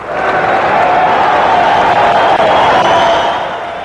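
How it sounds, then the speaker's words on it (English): Traders roar and cheer on the Wall Street trading floor, a dense, steady crowd din with applause that holds loud throughout and fades slightly at the end. "Then a cheer for how well those troops were doing."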